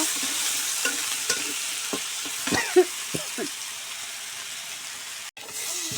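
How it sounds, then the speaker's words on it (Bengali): A pan of fish curry with taro being stirred over the heat, a continuous sizzle under scattered scraping and clinking strokes from the spoon, fairly close, ending in a sharp clack, with no voices. "সুন্দর করে নেড়ে চেড়ে নেব।"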